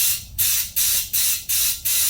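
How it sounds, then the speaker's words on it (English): Compressed air sprays into the fuel tank of a Polaris Indy 680 Ultra snowmobile in five rhythmic hissing bursts, each starting sharply and fading, loud and close with no speech. "when I put air in this thing, I can hear it spraying air into the tank"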